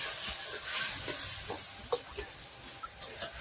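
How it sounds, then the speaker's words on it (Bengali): Onion and spices fry for an egg curry, a soft steady sizzle with scattered stirring scrapes and small knocks, fairly quiet. "এখানে আমি পেঁয়াজ দিয়ে মশলা দিয়ে কষে নিচ্ছি"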